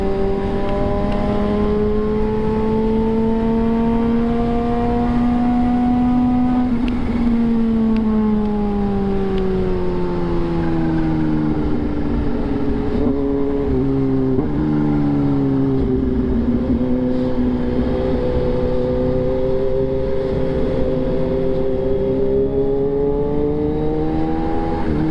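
Engines rev and drone continuously, pitches rising and falling as several motorcycles accelerate and pass, loud and close throughout.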